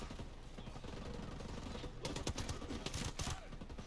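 Shots ring out in Ghost Recon Breakpoint from a slow-firing weapon, a busy run of game gunfire that sharpens into crisper, louder cracks in the second half, with no voices.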